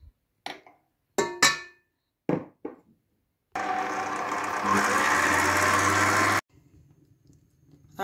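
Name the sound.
electric whisk whipping cream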